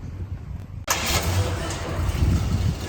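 A custom car on 22-inch Dayton wheels cranks briefly, then its engine catches and roars into a loud, steady idle close by, with no talk over it.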